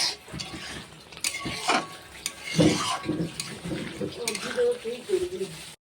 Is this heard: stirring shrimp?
yes